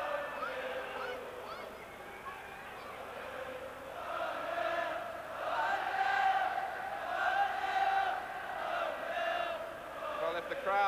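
A football stadium crowd at a 1983 Wales versus Brazil friendly roars and chants for Wales, a dense, sustained wall of massed voices swelling and surging throughout.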